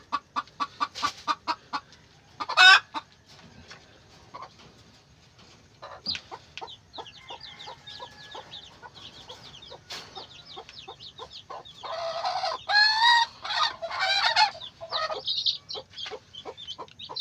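Chickens cluck repeatedly nearby in quick rhythmic bursts, growing busier and louder toward the end.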